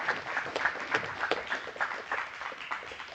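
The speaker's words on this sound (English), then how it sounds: "Big round of applause for these two men over here putting on this." Moderate applause from an audience at a live special event in Las Vegas, with distinct individual claps in an uneven rhythm, fairly close and somewhat thin, with no one speaking over it.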